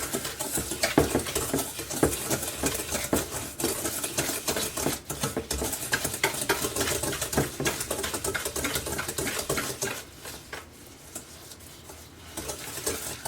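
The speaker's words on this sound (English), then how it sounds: "we're going to give that just a quick whisk to get everything kind of head started there" A whisk clatters quickly against a bowl as vanilla is beaten into a bread pudding mixture, a steady busy scraping and tapping that eases off near the end.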